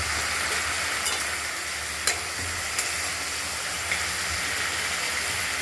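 Spice paste for a fish curry fries in oil, a steady close sizzling hiss with faint stirring taps, continuous and without talk.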